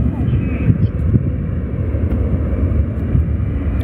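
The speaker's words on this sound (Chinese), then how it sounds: "从广州白云的洞幺右跑道起飞" A large passenger jet takes off from Guangzhou Baiyun airport, its engines producing a steady, broad low roar with wind buffeting the microphone throughout.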